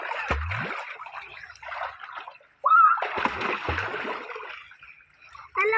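Splashes into water at a provincial swimming spot, with a few sharp plunges and sloshing bursts standing out near and loud, while voices talk in between.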